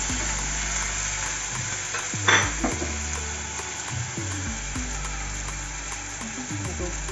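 Spices stirred into onions and ginger-garlic paste frying in a pan for a prawn curry, with a steady sizzle, scraping strokes and one brief louder clatter of the spoon partway through.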